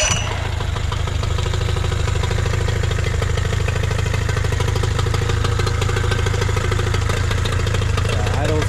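A Nissan/Tohatsu 18hp outboard motor, fitted with a new fuel pump and an adjusted carburetor needle, idles steadily and close by with an even, rattling putter that stays loud and unbroken.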